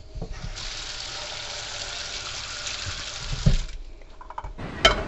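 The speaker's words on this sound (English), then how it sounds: "Now you can hear the ocean." Steady rushing water pours continuously for several seconds, a broad hissing wash that breaks off abruptly near the end with a few clunks.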